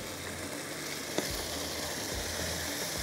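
White qorma made without browned onions frying in a pot, a steady soft sizzle running evenly throughout at low level.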